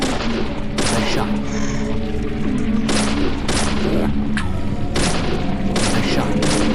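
Repeated gunshots from the survival horror game Deadly Premonition, a series of sharp loud bangs at irregular intervals over a droning backdrop, with a player talking over them.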